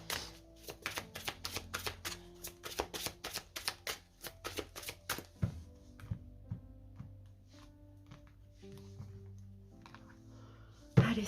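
Tarot cards are shuffled by hand in a rapid rhythmic flurry of crisp riffling slaps for several seconds, then slow isolated taps as cards are set down, close by, with soft music in the background.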